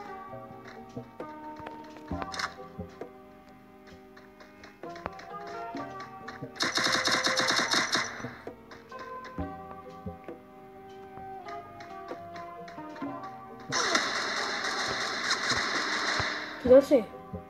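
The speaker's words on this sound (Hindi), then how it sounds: "फिर किधर से गोलियां पड़ रही हैं" Bursts of rapid gunfire in Free Fire Max, two long volleys among quieter ticking sounds and background music, with a voice talking at times.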